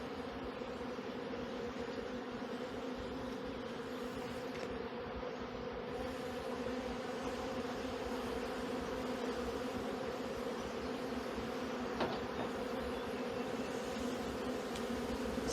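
Honeybees hum over a capped brood frame in an open hive, a dense steady buzz close up with a few faint knocks.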